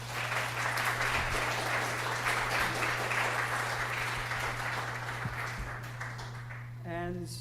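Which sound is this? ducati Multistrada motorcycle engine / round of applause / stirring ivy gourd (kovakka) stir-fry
round of applause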